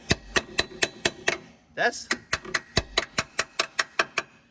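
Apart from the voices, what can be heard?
chipping hammer striking rusty ATV frame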